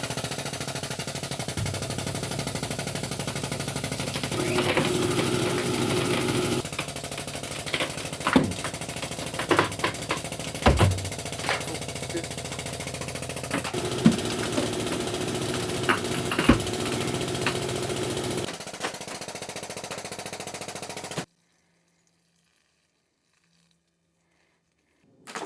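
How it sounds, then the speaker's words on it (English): A hydraulic lift tearing deck plywood, nails and glue off the joists: a steady mechanical drone with rapid cracking pops and sharp snaps scattered throughout, ending abruptly in silence. "it's going to start popping the nails and the plywood and the glue off the joist"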